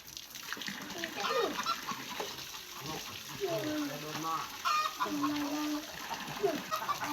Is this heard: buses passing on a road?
no